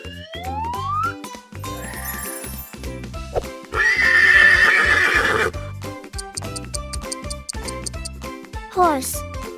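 A horse's whinny rings out loud and long near the middle, surrounded by clip-clop hoof beats, jingling bells and bouncy children's music.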